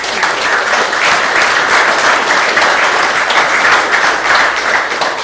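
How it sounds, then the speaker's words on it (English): Sustained, dense audience applause at a book launch for a novella, steady and loud throughout with many hands clapping and no pauses. "So would you give Dominic a big round of applause?"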